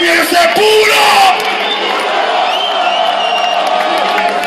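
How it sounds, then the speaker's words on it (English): Live dancehall concert crowd in Panama cheering and whooping loudly, a dense roar of voices that swells in the first second and then holds steady at a slightly lower level to the end. "Let me hear a round of applause."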